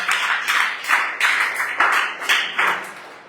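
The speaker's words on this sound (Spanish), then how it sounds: "dale fuerte el aplauso si te lo vas a dar" Several bursts of clapping, a small church congregation applauding during a sermon in uneven waves that fade out at the end.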